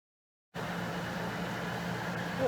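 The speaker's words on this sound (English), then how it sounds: "here's my little air conditioner" A small air conditioner routed through a car's driver's door switches on after a moment of silence and then hums steadily at a moderate level, a constant fan-like whoosh with no talking.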